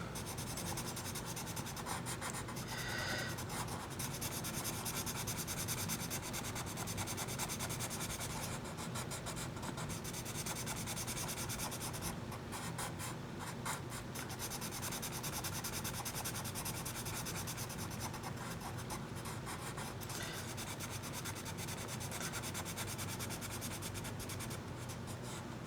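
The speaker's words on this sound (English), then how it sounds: "I get my blend pencil." Steady scratchy rubbing of a colorless blender pencil working over colored pencil layers of vivid violet and lilac on paper, a continuous close, soft scrubbing texture with brief pauses and no voices.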